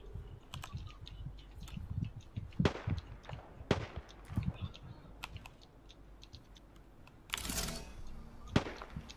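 Gunfire in the game Apex Legends, scattered sharp shots and short bursts at irregular intervals, fairly quiet, with keyboard clicks and occasional talk mixed in.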